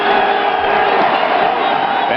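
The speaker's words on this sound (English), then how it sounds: "they're dealing with the home crowd here at Delaware" Home crowd at a 2002 Villanova versus Delaware college football game, fourth quarter, roaring in a loud, steady wall of cheering and shouting that fills the whole stretch without a break.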